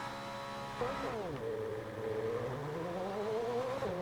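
A Formula 1 racing car engine from EA Sports F1 22 whines and revs up and down through gear shifts, a synthetic-sounding buzzing tone, moderately quiet and steady throughout.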